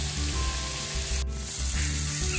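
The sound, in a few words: frying potatoes and onions in a pan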